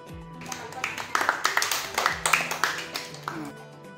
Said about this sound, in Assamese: সকলোৱে তাৰ কাৰণে হাত চাপৰি বজাব লাগে